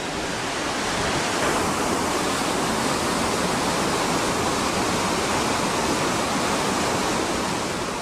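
Whitewater rapids on the Futaleufú river roar as a loud, continuous broadband rush of churning water, steady and close with no pauses.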